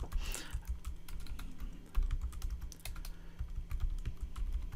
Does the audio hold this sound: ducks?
no